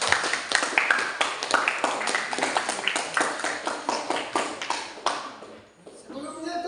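A small group claps at a teacher-training workshop on school counselling, with many quick, uneven claps that are fairly close and continue for about five seconds before fading, followed by a voice starting to speak.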